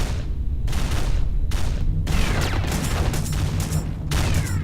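Missile blasts and gunfire in the video game Praedan Horizon, a continuous rumbling barrage of booms and crackling bursts with short dips between volleys, loud and close, with no voices.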